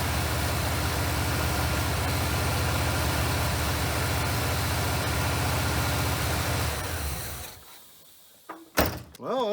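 A Chevrolet Monte Carlo engine idles a little high while running off a tank. A loud, steady close-up rumble holds for several seconds, then cuts out to near quiet, followed by a couple of brief knocks.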